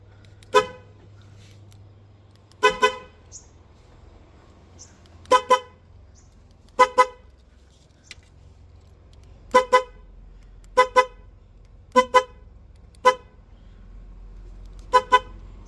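Repeated beeps from a single newly wired car horn set to sound on lock and unlock, single and double short toots spaced irregularly over quiet background hum, fairly close and clear.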